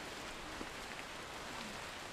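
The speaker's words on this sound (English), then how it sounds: "It's raining." Steady rain falling at night in Costa Rica, a continuous soft hiss of drops with no pauses, faint and even throughout.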